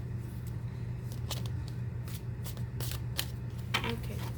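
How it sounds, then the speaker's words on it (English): Advice cards are shuffled and drawn, giving soft riffling, sliding and snapping bursts of card noise over a low steady background hum, close and moderately quiet. "Let's draw some advice cards."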